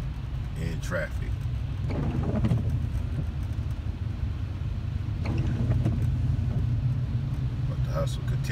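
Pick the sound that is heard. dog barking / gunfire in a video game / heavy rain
heavy rain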